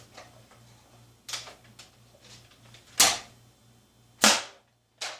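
A Jet Blaster Alpha toy blaster is put through a seal test: soft ticks and clicks of the mechanism, then three sharp, loud bursts of released air a little over a second apart, close up.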